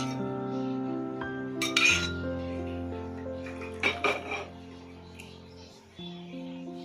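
Cooked food, a prawn dish, is drained in a basket while metal pots clink and clatter, with a few sharp ringing knocks over a low steady hum.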